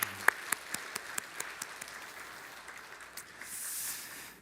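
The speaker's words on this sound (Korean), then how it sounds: "다시 한 박수로 오늘 격려합시다" A church congregation at a Sunday morning service claps, starting with a few sharp isolated claps and settling into soft, sparse applause that fades out, faint and somewhat distant.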